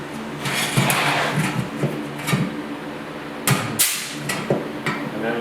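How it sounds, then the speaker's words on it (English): Step tool clamping and joggling the edge of a car body rust repair panel for butt welding on a 1939 Chevy two-door, a series of close metallic clunks and squeezes at an uneven pace in a shop. "I'm going to use my little step tool here and step this"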